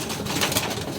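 A racing pigeon cooing, a soft, brief coo close by over a steady outdoor background hiss.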